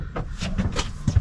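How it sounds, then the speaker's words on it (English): A kitchen knife drawer that keeps coming off its runners slides out with a few rattling, scraping knocks, ending in two louder clunks, heard up close indoors. "My knife drawer's come out again."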